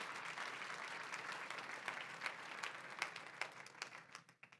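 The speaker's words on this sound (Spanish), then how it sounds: "Denle un fuerte aplauso al Rey de la Gloria." A church congregation bursts into loud, sustained applause, dense clapping that holds steady before tapering off at the end.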